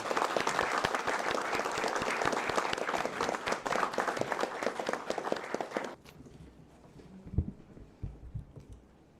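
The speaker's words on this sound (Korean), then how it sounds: "우리 한강 작가의 노벨 문학상 수상을 축하드리고 자축하는 의미에서 박수 한번 보내드리고 하는 게 어떨까요?" A crowd breaks into sustained, dense applause to celebrate Han Kang's Nobel Prize in Literature, loud and close for about six seconds, then stops abruptly, leaving faint room noise and a few thumps.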